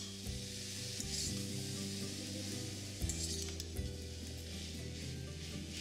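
Drumstick stalks and potato sauté in oil with a soft, continuous sizzle, broken by a few light scrapes and knocks of a utensil stirring in the pan, close and quiet.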